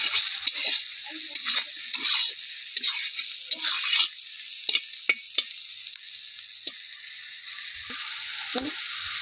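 Spice masala for a meat curry sizzling in a pan, a continuous bright hiss broken by short scraping stirs, close and with no talking.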